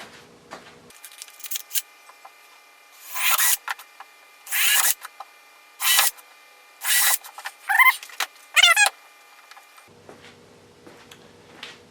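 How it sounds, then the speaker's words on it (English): A power drill bores a small pilot hole for a well nut in the thin hull of a Scotty canoe upgrade. Several short, sharp whirring bursts come in close succession, and the last ones rise in pitch as the bit spins up. "So we'll get a small pilot hole going, then we'll do the large size"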